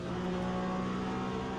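A race car engine in the Le Mans Ultimate sim drones steadily and loudly with a constant buzzing tone that holds its pitch through the short stretch, with no voices.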